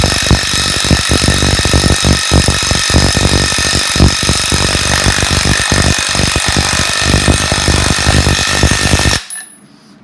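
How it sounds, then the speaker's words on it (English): Pneumatic impact wrench driving a DDM Cidli torsion rod tool during a torsion rod installation, a loud, close, continuous hammering rattle that runs for about nine seconds and then stops abruptly. "So we're just going to impact it."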